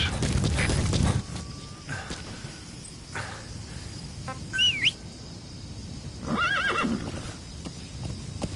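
A horse in the video game Metal Gear Solid V gives a sharp whinny amid clip-clopping hooves, with scattered bird chirps and game effects around it, fairly close and moderately loud.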